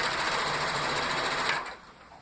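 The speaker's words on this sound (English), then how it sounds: "let's sew this together" A sewing machine stitches rag quilt pieces in a steady, fast whirring run for about a second and a half, then stops abruptly, leaving faint room noise.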